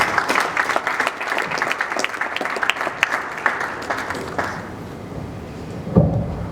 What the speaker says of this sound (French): sur les acclamations de l'assistance